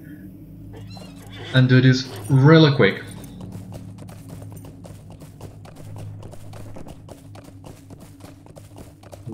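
A horse in the Lord of the Rings Online game gives two loud, close whinnies, then hooves clip-clop in a quick steady rhythm, with someone briefly talking over it.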